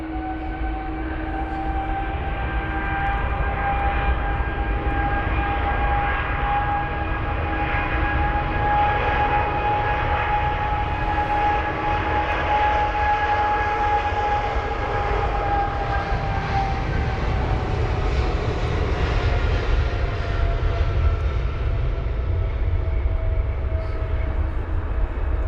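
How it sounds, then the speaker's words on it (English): Air Canada jet airliner at London Heathrow, a loud, steady engine roar with a sustained whine that swells slightly and holds for the whole stretch, close and continuous. "Oh, that Air Canada jet is so loud."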